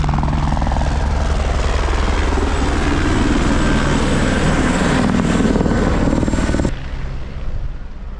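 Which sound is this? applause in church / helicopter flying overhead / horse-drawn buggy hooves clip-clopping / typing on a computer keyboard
helicopter flying overhead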